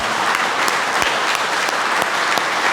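Church congregation applauding at a retreat, dense continuous clapping from many hands, loud and close throughout.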